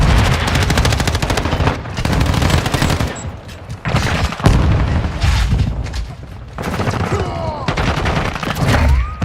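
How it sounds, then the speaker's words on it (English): Rapid automatic gunfire and bursts of shots in a first-person shooter video game, with a flash grenade going off, firing in dense stuttering volleys broken by short pauses. "Flash grenade."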